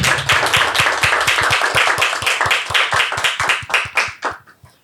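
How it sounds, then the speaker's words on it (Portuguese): A small group clapping together in a podcast studio during a children's special, sharp and close, in a quick steady rhythm that thins out and stops near the end. "Posso dar uma salva de palmas para vocês?"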